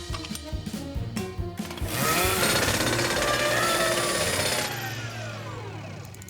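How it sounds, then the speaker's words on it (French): A cartoon supersonic screwdriver repairs a scooter with a loud, buzzing, jackhammer-like whir that kicks in after a couple of seconds, holds steady for about three seconds, then drops back to quieter background sound. "Et si je prenais le fameux tournevis supersonique numéro 9? Ouais, je vais réparer ça en une nanoseconde."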